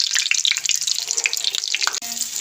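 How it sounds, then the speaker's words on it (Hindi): Egg-coated chicken shami kababs fry in a pan, giving a loud, close, constant sizzle with crackling spatter. A brief clatter comes as a kabab is turned over. "ऊपर से हमने बस फ्राई करनी है"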